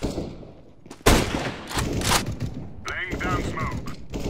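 Gunfire in Counter-Strike: Global Offensive: loud close bursts of rifle shots and sharp cracks over a couple of seconds, followed by game effects and a voice talking.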